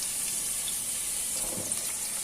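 Hollowed-out potatoes frying in oil in a pan, a steady close hiss and sizzle throughout with no talk.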